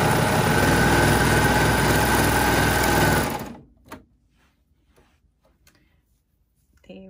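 A coverstitch machine fitted with a knit binder runs binding through at a steady, loud mechanical whir for about three seconds, then stops, leaving quiet handling clicks.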